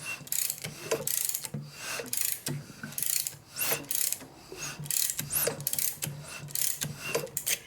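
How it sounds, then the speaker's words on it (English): A 2001 Indian Scout motor with an 88ci S&S big-bore rebuild and spark plugs removed is turned over by hand, giving repeated short rubbing, ratcheting mechanical scrapes in an uneven rhythm, close and fairly quiet. "Now I go ahead and pull the spark plugs out so I can turn the motor over"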